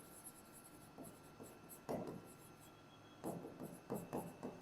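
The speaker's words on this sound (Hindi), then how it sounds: "फिर से लिख लेते हैं।" Marker or chalk writing on a classroom board, quiet scratchy strokes in short bursts with pauses between words, close and clear with no talking.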